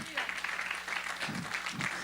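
Church congregation applauding during a Spanish-language worship service, a dense wash of clapping that fills the short moment, with voices mixed in.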